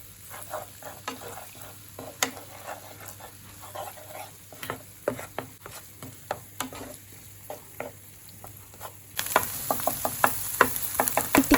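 Vegetables and spices for chicken koththu sauté in a pan with repeated sharp spatula taps and scrapes over a light sizzle, the frying hiss swelling noticeably louder near the end.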